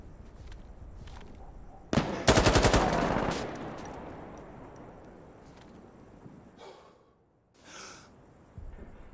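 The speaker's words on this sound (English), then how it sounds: "I heard sniper fire." Sniper fire in Insurgency Sandstorm: one loud, sharp shot lands and rolls into a long echoing tail, followed by fainter shuffling and gear noise from the game.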